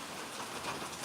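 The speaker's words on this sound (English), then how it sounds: "Man, that rain's crazy." Heavy rain falls and drips in a steady, dense patter, a brief continuous hiss of drops without any speech.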